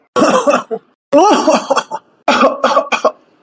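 Three bursts of harsh, loud coughing, each a rapid cluster of hacking coughs, close to the listener, with short pauses between.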